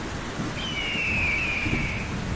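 Steady rain on an outdoor surface with a low rumble of thunder in a stormy scene, one high whistling tone drifting across the middle, no voices, continuous and fairly loud.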